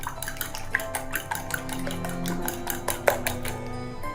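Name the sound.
egg being beaten in a bowl for shami burger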